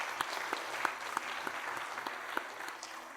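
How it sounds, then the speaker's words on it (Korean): Encouraging applause from a church congregation during a Sunday worship service, a steady, moderately quiet wash of clapping with a few distinct sharp claps popping out near the listener at irregular moments. "박수도 함께 드리겠습니다."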